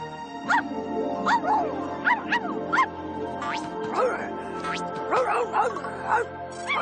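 A small dog barks repeatedly in short sharp yaps, close and fairly loud, spaced through the clip with some whimpering yips and a voice in the background.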